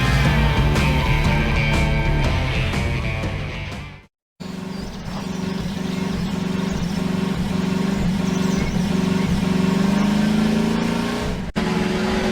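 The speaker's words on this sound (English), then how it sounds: "I'm driving." A car being driven, its engine droning steadily and rising in revs at times, loud and close, with a brief cut to silence partway through.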